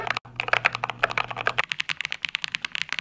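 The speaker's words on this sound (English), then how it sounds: "But does anybody actually buy a keyboard for the sound it makes?" Typing on an expensive mechanical keyboard, rapid close-up clacking keystrokes in an uneven burst with a brief low hum beneath the first half.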